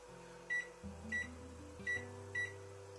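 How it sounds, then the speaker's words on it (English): A microwave oven hums steadily while cooking meatloaf, with the tone shifting in steps and a few short, bright beeps at regular intervals, close and fairly quiet, with no talking. "It's in the microwave, people."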